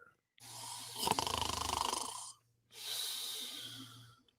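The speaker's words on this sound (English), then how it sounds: "I've actually been told that I do not snore that badly" Two long snoring breaths from a sleeping man on vacation, each a rough, rattling inhale lasting about two seconds with a short silent pause between, close and loud over a faint hum.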